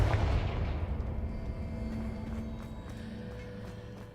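Confringo fire spell blasting in Hogwarts Legacy: a loud booming burst at the start that rumbles and fades away over a few seconds, with low roaring tail.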